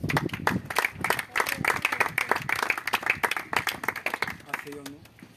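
Church congregation clapping and cheering in praise, dense rhythmic applause filling the room for several seconds before tapering off, with voices calling out over it.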